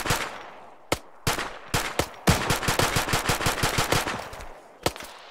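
Automatic weapon fire in a military shooter video game: isolated sharp shots, then a sustained rapid burst of closely spaced rounds, loud and near, ending in a few scattered single shots.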